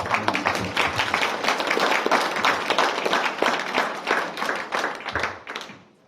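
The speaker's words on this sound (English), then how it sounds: "a big round of applause for Matt" A graduation ceremony audience gives a round of applause for a graduate named Matt, a loud, sustained clatter of many hands that thins out and fades away at the end.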